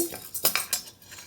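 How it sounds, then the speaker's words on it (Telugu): Metal spoon scraping and clinking against a pan while lentils (dal) are stirred as they fry, a few quick, close strokes. "ఇదండి పప్పు వేగించి చూడండి, ఇట్లా వేగిపోతే చాలండి."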